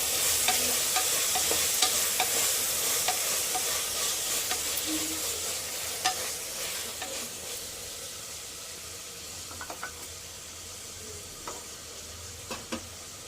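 A paneer biryani mixture fries in a pan while being stirred, giving a continuous sizzle with repeated scraping and clinking strokes that grow sparser toward the end; no talking.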